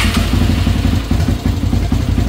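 A Yamaha YFZ450 ATV engine runs rough and uneven on nearly empty fuel, a loud, close, lumpy idle with rapid irregular firing pulses and no talking.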